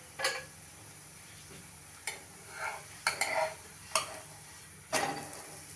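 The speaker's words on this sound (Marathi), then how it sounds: "आता आपल्याला उलटवून घ्यायचं थालीपीठ" Sorghum and bottle gourd thalipeeth is flipped in a pan, giving a few separate scrapes and soft thuds over a faint, steady sizzle, close by, with no talk.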